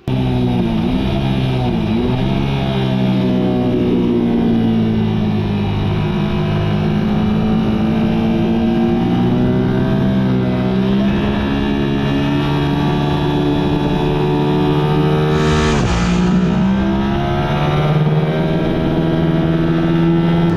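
A 2023 Yamaha R7 fitted with GYTR parts and Öhlins suspension laps Slovakia Ring, its engine screaming loud and close through continuous high revs with rising and falling pitch across gear changes, plus a brief wind rush.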